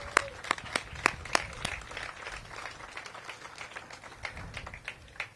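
Applause at an outdoor groundbreaking ceremony for a new town center, a light, sparse scattering of claps from a modest crowd, heard at a distance and fairly faint.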